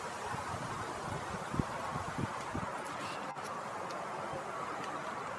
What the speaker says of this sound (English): it might be a little difficult considering all the wind I'm dealing with